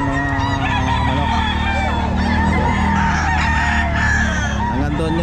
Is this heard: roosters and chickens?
yes